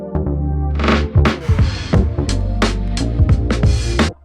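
A punchy beat with booming bass and snappy hits, built from left-field drum breaks, builds into a sweeping, rising transition effect that cuts off abruptly at the end.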